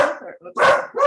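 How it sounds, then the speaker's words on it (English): A dog barks in short bursts close to the microphone, loud enough to dominate a few moments, with a person talking over and around the barking. "That's my dog"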